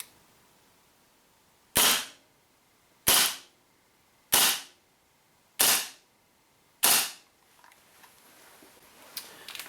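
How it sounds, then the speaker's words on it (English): WE P38 gas blowback airsoft pistol, compact variant, fired five times at an even pace, each shot a sharp, loud crack with quick decay, followed by faint handling clicks. "First couple of shots without the barrel extension."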